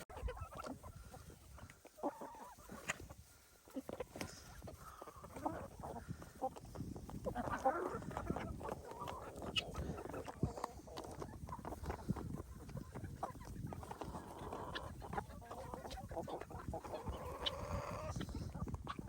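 A flock of chickens clucks and scratches close by while pecking at apple crisp, a busy continuous murmur of soft calls and rustling, with faint voices in the background.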